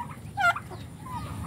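A turkey lets out a short, loud gobble, then faint rustling and low background noise follow.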